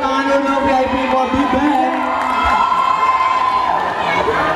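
A loud crowd at a singing competition semifinal cheering and shouting continuously, with excited voices and some clapping mixed in, sustained throughout.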